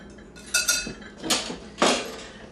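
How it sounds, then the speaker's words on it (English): Flour and baking powder whisked in a bowl, heard as three distinct bursts of metallic clinking and rattling against the bowl over a quiet background, close up and without talk. "We're going to combine it with a whisk."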